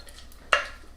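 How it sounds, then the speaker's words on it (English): A spoon scrapes once through a sticky pecan brittle mixture of sugar and pecan pieces in a microwave-safe bowl, a short clinking stir against a quiet kitchen background. "And I'm just going to stir it real good."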